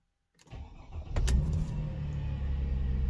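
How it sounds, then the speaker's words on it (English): A Mercedes SLK 350 R171 engine with a misfire fault cranks and starts after a brief silence, then settles into a steady, smooth, low idle heard close up. "already that's a nice idle"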